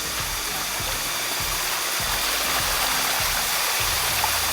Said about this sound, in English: Just casually walking up a waterfall right now